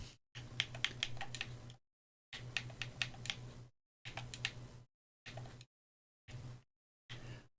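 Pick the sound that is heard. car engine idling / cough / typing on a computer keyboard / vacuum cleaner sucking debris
typing on a computer keyboard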